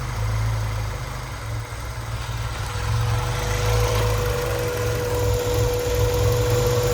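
A 1992 Honda Civic EG engine idles roughly at close range, a steady low hum with a faintly uneven pulse and a thin constant whine above it.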